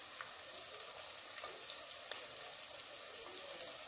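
Onions sautéing in hot oil with salt give a steady, close, crackling sizzle with scattered small pops, heard on its own without talk.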